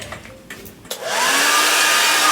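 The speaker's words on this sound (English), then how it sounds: "I'm just using the blow dryer to go through the hair" A handheld blow dryer drying a wig's very wet hair on a mannequin head starts after a few soft clicks and handling sounds, then runs as a loud, steady, close whoosh with a whining motor tone.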